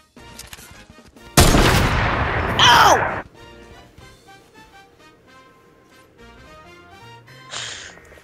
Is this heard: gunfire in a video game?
yes